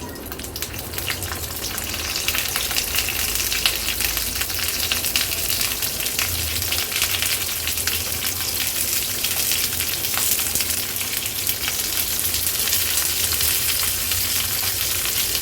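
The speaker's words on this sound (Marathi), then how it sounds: "एक एक करून स्टफ केलेल्या ह्या शिमला मिरची आपण पॅनमध्ये ठेवूया।" Stuffed capsicums fry in oil in a pan over a low flame, making a dense, continuous close sizzle that holds steady throughout with no talking.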